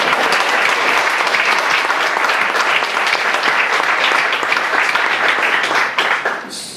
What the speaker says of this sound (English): our musicians tonight also deserve a round of applause.